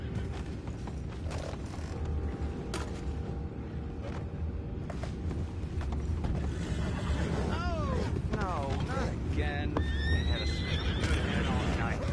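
Horses in the Red Dead Redemption 2 video game neigh and whinny several times over creaking wagon mechanisms and hoof clops, with talk heard at points.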